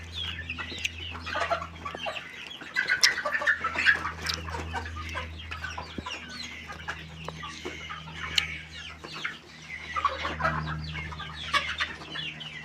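Chickens about two and a half months old, red-feathered, clucking steadily while pecking at scattered feed, a busy close flock of overlapping clucks and chirps.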